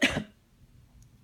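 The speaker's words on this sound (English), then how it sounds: "the dust got in his throat and he began to cough" One short, harsh cough from dust in the throat bursts out up close, then fades into near silence.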